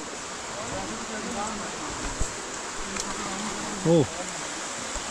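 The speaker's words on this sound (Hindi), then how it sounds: "ये वाटरफॉल है, तो बिल्कुल जंगल के अंदर आ गए।" A jungle waterfall near Kanhatti Garden in Soon Valley makes a steady, even rushing hiss throughout, with a brief voice exclamation cutting in near the end.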